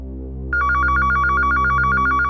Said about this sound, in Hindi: थैंक गॉड, सही समय पे फोन आ गया